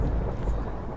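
Deep rumbling thunder from a lightning strike in The Hunger Games video game, a continuous low roll that fills the whole moment with no voices.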